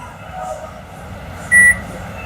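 Microwave oven model BMI251SG3BG gives a single short, clear beep from its control panel over a faint background hum.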